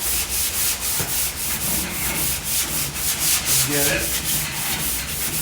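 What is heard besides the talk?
hand sanding body filler on car panel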